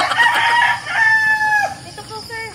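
Roosters crowing with long harmonic calls over a background of many clucking chickens in Danao, Bohol, loud and close, one crow trailing off toward the end.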